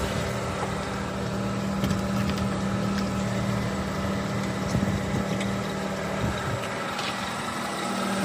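A Daihatsu Hijet 4WD mini truck engine idles steadily with a low, even rumble, heard from close by under the open engine bay, with some faint handling noises and no talk.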